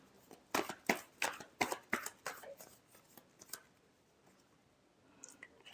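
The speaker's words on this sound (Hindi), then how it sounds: "Last shuffle." Tarot cards being shuffled in a rapid run of crisp riffling snaps and slaps, close and fairly loud, then trailing off into a few light clicks and near quiet.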